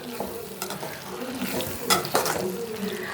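Capsicum frying in a pan gets stirred with a utensil: a few short scraping strokes and clinks over a faint sizzle, close and fairly quiet.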